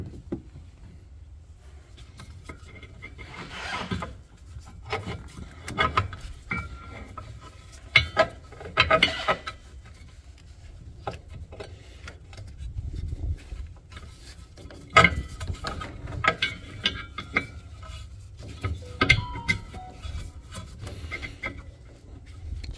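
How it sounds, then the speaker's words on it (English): A new pressure reel swivel is spun onto its fitting, making scattered rubbing, scraping and ratcheting noises at close range with irregular louder clicks and no talk. "peel off as you start spinning it onto the fitting."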